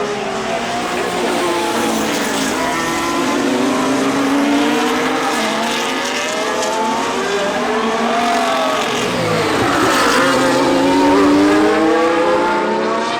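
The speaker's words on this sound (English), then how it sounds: "the menacing roar from those cars and those engines" Formula 1 race cars roar past on the track, loud high-pitched engine wails rising and falling in pitch as they sweep by one after another, continuous and close.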